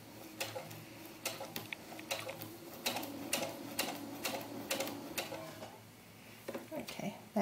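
A sewing machine stitches a doll skirt seam in short bursts of rapid mechanical ticking, close and fairly quiet, with brief pauses between runs and soft talk underneath.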